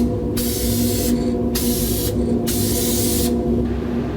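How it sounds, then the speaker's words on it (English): A spray gun lays clear coat on a 1982 Jeep CJ7 in loud, close hissing bursts, three or four sustained passes separated by short gaps over a constant compressor-like hum. "Here goes the first coat of clear."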